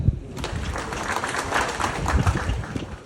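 A crowd at a Ugandan political ceremony flagging off polling agents gives a round of applause for the Attorney General, a fairly loud, continuous patter of clapping with a heavier low rumble, lasting about three seconds.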